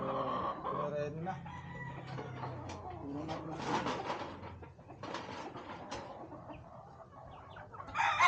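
Boston Gold chickens in a pen, hens clucking and a rooster crowing at moderate distance, scattered calls over soft background noise with a person talking among them.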